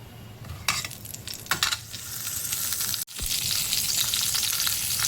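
Cumin seeds and a pinch of asafoetida crackle and sizzle in hot oil as a tempering for a shevla vegetable dish, a steady close frying hiss broken by a few sharp pops and a brief stir near the middle.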